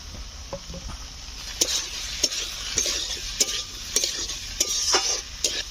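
Fried prawns and pointed gourd are stirred into sautéed potatoes in a pan for a Bengali prawn curry, with a close steady sizzle broken by regular scraping strokes of a spatula, and no talking.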